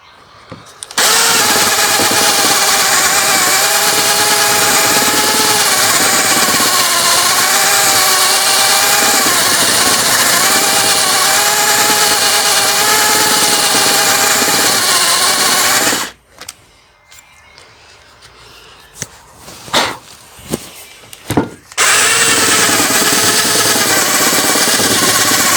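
A steady, loud grind of a power drill driving a 20mm bit through a shaft from a 1961 Cadillac Deville 390 runs for a long stretch, stops for several seconds with scattered clicks, then resumes.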